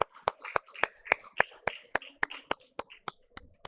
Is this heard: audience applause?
yes